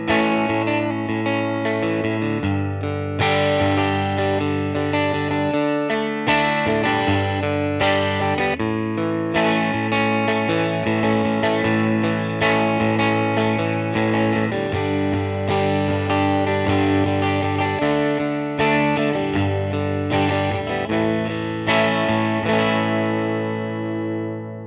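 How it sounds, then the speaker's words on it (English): A Stratocaster electric guitar played through a Fender 5E3 Deluxe amp on clean tones, sounding as continuous strummed chords and ringing notes at a steady, loud level throughout, with no talk. "To start, I'm going to show you guys some clean tones with this Stratocaster."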